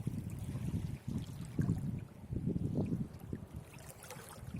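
Water trickles and gurgles in low, uneven bursts, close and steady without any voices.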